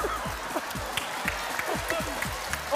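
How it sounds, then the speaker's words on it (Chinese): Studio audience at a Hong Kong TVB game show clapping steadily, a dense patter of many hands over a low murmur, with voices chattering underneath. "點解咁多人拍手嘅？"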